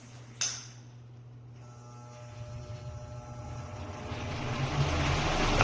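Kitchen exhaust fan in a house, a whirring drone like a helicopter that starts after a brief knock and gradually grows louder and rougher, heard alone without talk.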